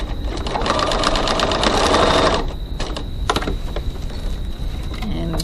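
A sewing machine runs steadily, stitching a bag pocket from its bottom end, with dense rapid needle clatter for about two seconds before easing into slower, intermittent stitching with a few soft handling noises.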